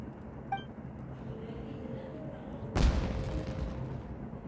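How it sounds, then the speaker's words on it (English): A single sudden boom of a fireworks explosion in the Genshin Impact video game bursts loudly over a steady low background hum, then trails off into a rumbling decay. "It sounded like fireworks"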